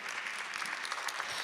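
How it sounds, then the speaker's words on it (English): Audience at a ceasefire rally applauding for Reverend James Cleveland, dense sustained clapping from a crowd, lively and fairly close. "Let us cheer Reverend Cleveland on in heaven."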